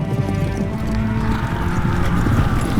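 Polish lancers' cavalry horses charge in a World War II attack at Krojanty, with loud, dense, continuous hoofbeats pounding over one another and a whinny rising through the rumble.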